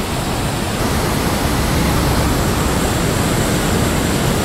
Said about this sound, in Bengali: সব গেট খুলে দিয়েছে, কতটা ভরে আছে জল।